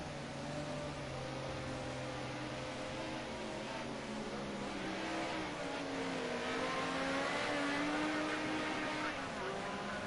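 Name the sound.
racing cars incl. Sierra at Zolder, from racing game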